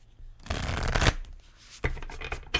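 Oracle and tarot cards riffled and shuffled by hand, a soft crackling flutter in two close bursts with a pause between, fairly quiet and with no talking.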